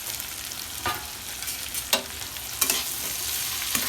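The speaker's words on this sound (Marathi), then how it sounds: "व्यवस्थित फ्राय करून घ्यायचं तेलामध्ये मिक्स करून कढईमध्ये" Okra and potato frying in oil in a kadhai, a steady hiss of sizzling with a few scraping stirs of the spoon now and then, close and fairly loud, with no talking.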